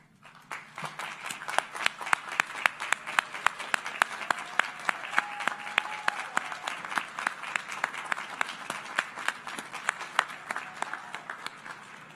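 At a university commencement, the audience claps for graduates' families, a sustained round of many hands with distinct sharp claps popping out in a fairly even rhythm, building in and holding steady for over ten seconds.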